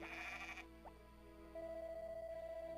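Sheep in the farming game Harvest Moon: Back to Nature bleat in short electronic cries, a bright burst at the start followed by a higher sustained bleat, set against a steady looping background tune.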